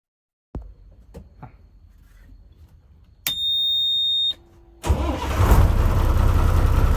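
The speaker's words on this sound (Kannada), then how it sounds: "ಇದ್ರದೊಂದು ಇಂಜಿನ್ ಒಂದು ಸ್ವಲ್ಪ ಸ್ಟಾರ್ಟ್ ಮಾಡಿ ತೋರಿಸಿ" A BS3 Mini Harshitha bus starts up: a few clicks, then a steady electronic beep for about a second, then the engine cranks and catches into a loud, close rumbling idle.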